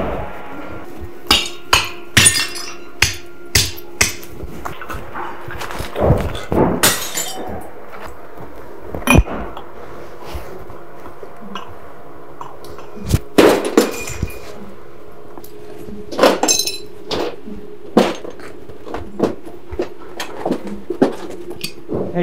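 Repeated sharp smashing blows from a hammer in a rage room, irregular and loud, with glass-like shattering and breaking debris between hits, some bursts clustered rapidly together.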